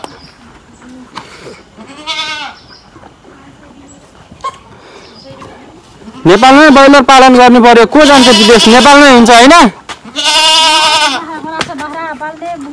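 Goats on a farm that also raises broiler chickens, giving loud, close, wavering bleats in several long bursts in the second half, after someone talks over quieter bleats and faint animal sounds.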